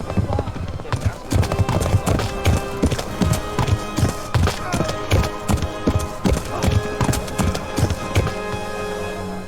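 Hoofbeats of several riders on horseback in a video game, a steady rhythmic clopping heard up close for the whole stretch.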